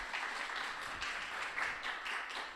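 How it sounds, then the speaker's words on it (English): Audience applause at a climate accelerator demo day, a continuous wash of clapping of moderate loudness, with scattered distinct claps standing out and no speech on top. "Let's give him a big round of applause."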